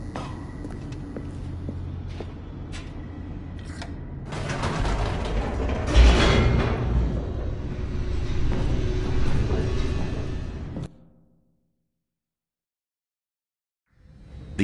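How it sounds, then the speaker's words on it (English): An elevator in the video game The Stanley Parable descends with a loud mechanical grinding of gears, ratchets and creaking cables that swells midway, then cuts off abruptly into silence. "The elevator raced downward, plummeting towards an unknown fate."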